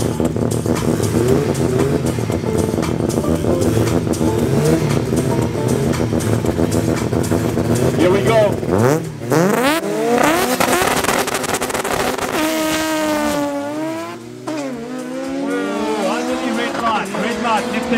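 Cars race and do burnouts at Midvaal Raceway, with loud, sustained engine roars that rise and fall, tyres squealing, and revving passes sweeping by. Constant, close and dense crowd-event noise with no clear speech.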